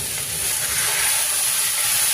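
A little water hitting frying rohu fish head with bitter gourd and potato in ginger-cumin paste, giving a loud, continuous hissing sizzle close by, with no talking.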